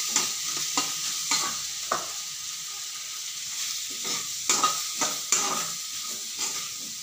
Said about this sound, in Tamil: வதக்குறேன். மிளகாத்தூள் போடுறேன்,